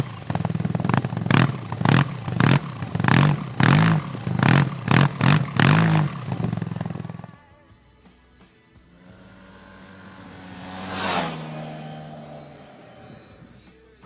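A 2016 Yamaha T-Max 530 maxi-scooter with a liquid-cooled, twin-cam, four-valve inline twin gives loud, close, rhythmic revving pulses for about seven seconds, then a lower steady hum with a brief swell as it passes.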